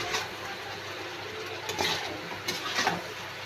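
Onion paste gravy for methi chicken being stirred and sautéed in a pan, a soft steady sizzle with occasional louder scraping stirs, no talk.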